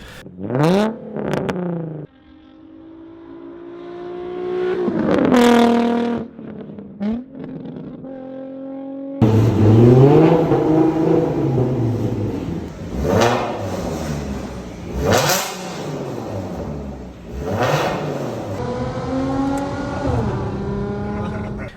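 A 2012 Audi A6 C7 with the supercharged 3.0 TFSI engine revs in several loud rising and falling sweeps, with short pauses between bursts and no talking over it.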